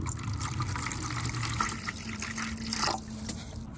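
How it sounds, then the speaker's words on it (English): Muriatic acid is poured into a container in a workshop, a steady close liquid trickle and splash running throughout with a slight gurgle near the end. "So here's our muriatic acid. So we're just gonna pour it in there and then dip our parts in."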